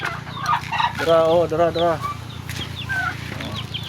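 Pet chickens and turkeys cluck and call at feeding time, with a loud gobbling burst in the middle among scattered nearby clucks, while a person talks over them.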